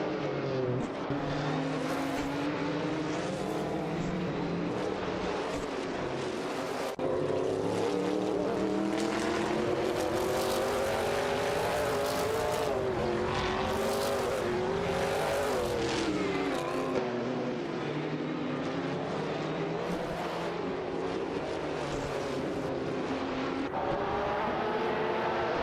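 Race cars launching off the line in a racing video game, a dense sustained engine roar with rising and falling revs and several cars layered together, loud and steady throughout.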